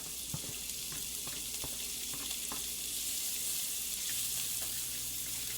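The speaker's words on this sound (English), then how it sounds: "You want that sizzle," Onions sizzle steadily in a hot frying pan, a constant hissing crackle with faint clinks of a utensil stirring.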